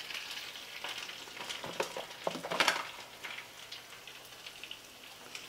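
Garlic and cumin seeds for gongura mutton curry crackle and spatter in hot oil with a soft, uneven patter, a few sharper pops and stirring scrapes in the middle, then settle into a fainter sizzle.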